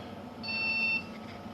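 A short electronic beep from an RTX 3080 Gaming OC graphics card being repaired, a single steady tone about half a second long, heard alone over faint background hum.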